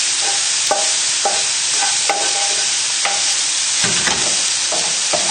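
Bacon fries to crispness with a bright, close sizzle and spitting fat, broken by regular scraping stirs of a utensil against the pan.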